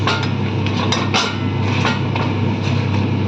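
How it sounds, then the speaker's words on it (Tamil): Crab curry with garlic and mustard is stirred in a pot, with a loud, dense sizzle running throughout and scattered metallic scrapes and knocks of the utensil. "அதுக்கு போட்டு எல்லாம் வடிவாக எல்லாம் பிடிக்கிற மாதிரி கிளறி விடுவோம்"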